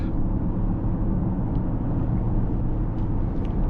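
A 2024 Mercedes-AMG GLE 53 Coupe facelift accelerates, heard as a steady, dense low engine and road rumble from inside the cabin with no talking.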